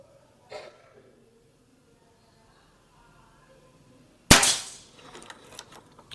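A single sharp, loud PCP air rifle shot cracks out near the end after mostly quiet moments, with a brief faint click earlier and some rustling afterward.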